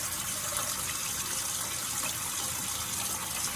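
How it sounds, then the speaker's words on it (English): Warm water gushes steadily into a sourdough mixing bowl, a close, continuous hissing pour with no break and no voices. "And it's warm water."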